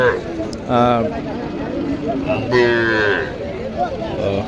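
Cattle moo loudly in two long, drawn-out calls nearby at Chakgouri livestock market near Naogaon, Bangladesh, amid a busy outdoor crowd with voices murmuring in the background.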